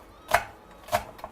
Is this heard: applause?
no